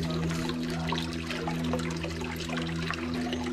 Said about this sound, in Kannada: ಕಂಟಿನ್ಯೂಸ್ ಆಗಿ ಫ್ಲೋ ಇದೆ, ಅದು ಯಾವಾಗ ನೀರು ಬರ್ತಾನೆ ಇರುತ್ತೆ.